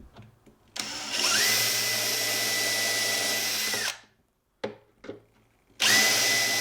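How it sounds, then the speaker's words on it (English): A power drill with a Vix bit boring into a cabinet hinge strip: a long loud whining run, a pause, two short bursts, then the motor spins up again, close and alone. "All right, so I'm going to drill this."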